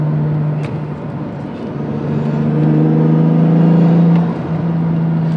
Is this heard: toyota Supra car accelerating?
yes